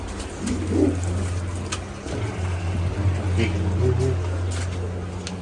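Pet pigeons, mostly females, in a Punjabi loft give low, soft, repeated coos close by, while someone talks over them throughout.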